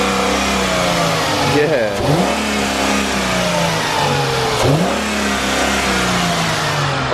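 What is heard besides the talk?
2004 Chrysler Crossfire engine revving with dual intakes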